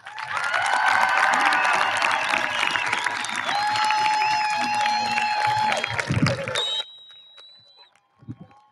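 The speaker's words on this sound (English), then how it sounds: "Let's give a round of applause for our graduates" A crowd at a Class of 2021 awards night applauds the graduates with scattered cheers. The dense, loud clapping runs about seven seconds, then cuts off into near quiet.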